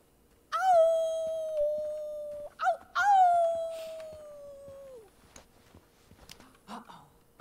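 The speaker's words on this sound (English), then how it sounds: "I hear a wolf. Better be careful of hunters out here." A wolf howls in the video game Life Is Strange 2, two long, clear wavering howls close up with a short yip between them, then fading into quiet wilderness ambience with faint rustles.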